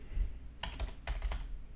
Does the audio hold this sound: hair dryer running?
no